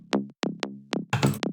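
The first of three layered synthesizer trance basses in a hardwave track plays alone, giving five short, plucky bass stabs in quick succession, one with a noisier burst, dry and close.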